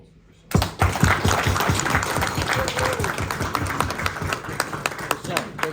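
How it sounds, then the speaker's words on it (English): After a brief quiet moment, applause breaks out at a dinner for Krishna, with distinct nearby hand claps over a busier wash of clapping from the group, continuing steadily. "please join me in a round of applause for Krishna."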